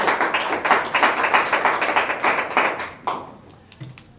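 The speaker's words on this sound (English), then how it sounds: "give him a round of applause for being here." A Rotary meeting audience applauds a guest at a park presentation, brisk clapping from a modest room of people that fades out after about three seconds, leaving a few scattered claps.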